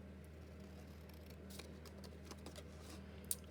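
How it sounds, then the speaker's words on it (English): Scissors snipping paper to cut out handmade faux postage stamps, faint, quick scattered snips over a steady low background hum. "So I'll just cut them out."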